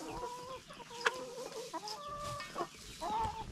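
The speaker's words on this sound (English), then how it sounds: "He was clucking at him a little bit." Americana chickens cluck in short, scattered bursts at close range, with a few sharper calls standing out against a quiet farmyard background; no one speaks.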